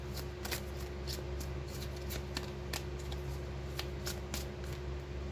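Oracle cards shuffled from a deck, a rapid series of crisp riffling flicks and snaps in an even rhythm, close and fairly quiet over a steady low background hum.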